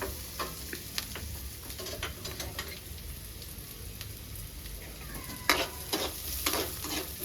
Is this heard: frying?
yes